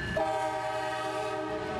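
Train horn sounding with a steady tonal blare over the rumble of a passing train in a film, holding loud and sustained throughout.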